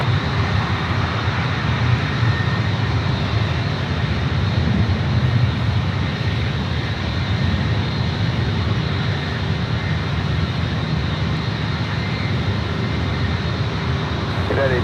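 A Boeing 777 jet airliner roars steadily at San Francisco airport, a loud continuous engine rumble with a broad hiss that holds level throughout, with no talk over it.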